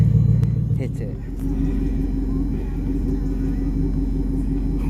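A turbocharged Lexus LS400 engine idles with a steady low rumble close by, while people talk briefly over it near the start.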